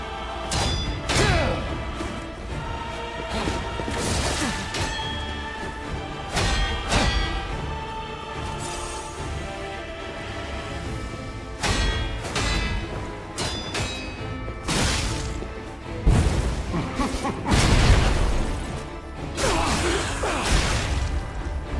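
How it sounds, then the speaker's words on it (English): Boss attack explosions and combat impacts in the action game Lies of P, a series of sharp bursts, whooshes and thuds recurring irregularly over a moderate game soundtrack. "I guess you gotta time the dodge just right for the explosions."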